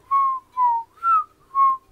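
Tuneful whistling during the visual novel game Everlasting Summer, four sustained clear notes in a short rising and falling phrase, each held about a quarter second with brief gaps, close and prominent with no talk over it.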